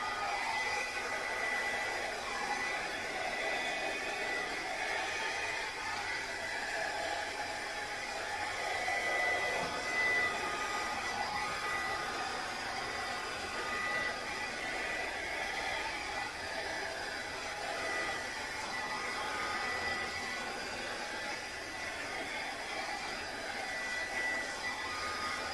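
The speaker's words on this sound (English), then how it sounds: "now I'm going to take my blow dryer and I'm gonna try to blow this out best as possible in the spiral design" A hair blow dryer blows a steady, continuous rush of air across an acrylic paint pour to push it into a spiral design, holding an even, moderate level for the whole stretch with no talking.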